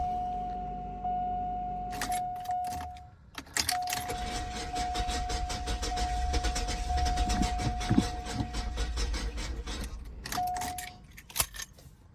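A Cadillac Eldorado engine cranks on starting fluid, turning over in rough, stuttering bursts with a steady whine running underneath and brief gaps between attempts, close and fairly loud.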